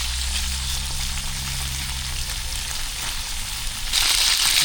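Smoked sausage sizzles steadily as it fries in a pan, a continuous dense crackle with a low hum beneath, turning louder and brighter near the end.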